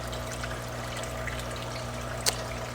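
Water steadily trickles and pours into an aquarium being refilled during a water change, a constant low gurgling wash with one small splash near the end.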